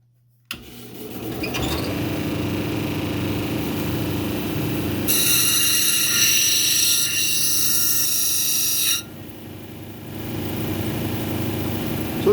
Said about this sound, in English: we're over here on my Kingsley North 6-inch cabbing machine